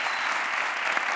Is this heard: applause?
yes